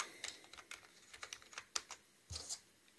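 Typing on an Atlanfa backlit computer keyboard gives a steady run of quick, light key clicks with one heavier thump near the end, close and fairly quiet, with no talking.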